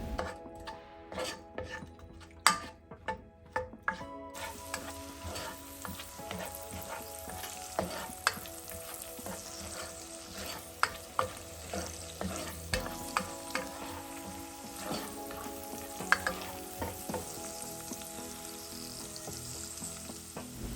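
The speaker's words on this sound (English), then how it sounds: "Then I'll add some chopped onions, and I'm going to fry this for about 2 to 3 minutes until it becomes soft and fragrant" Chopped onions fry in palm oil in a pot, a steady close sizzle broken by frequent sharp clanks and scrapes of a spoon stirring against the metal.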